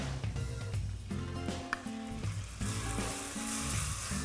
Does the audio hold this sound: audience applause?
no